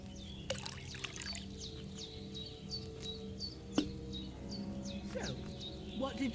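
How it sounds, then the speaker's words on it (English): Wine poured into a cauldron in Kingdom Come: Deliverance 2, a soft trickling pour beneath a repeating series of bird chirps and a steady low hum, with a faint knock partway through. "So, what did you pour in there? Wine, of course."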